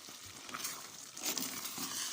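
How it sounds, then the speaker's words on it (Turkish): Cracked wheat and vegetables frying in a pan while being stirred, a soft sizzle with scraping, clattering stirring strokes, quiet and close. "yarması karışsın diye karıştırıyorum"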